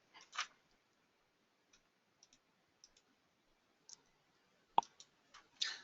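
A computer mouse clicking during an online webinar, a few sparse, faint clicks scattered through near-silence with one sharper tap.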